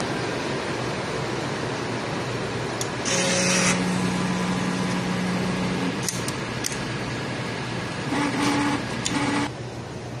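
A sublimation printer hums steadily as its mechanism whirs during a head clean, with short bursts of louder mechanical noise and brief tonal beeps partway through.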